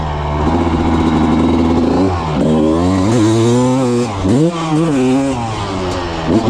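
A motocross dirt bike engine, either a 2022 CRF450 four-stroke or a 1996 CR250 two-stroke, revs loudly and close by, its buzzing tone swinging up and down through several throttle blips and dips.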